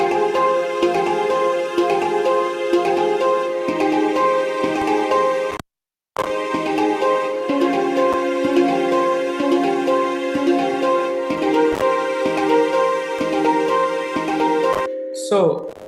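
Real recorded and synthesized pan drums layered with strings in an electronic music production, a continuous melodic tune of bright repeated metallic notes over sustained chords, with one short silent gap midway.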